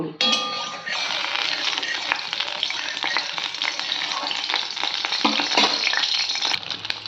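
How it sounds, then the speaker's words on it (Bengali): Beaten egg fries in hot oil for an omelette with a loud, close sizzle, broken by scraping and stirring with a utensil in the pan and a few light metallic clinks. "এই যে ডিমটাকে ভাজা করছি।"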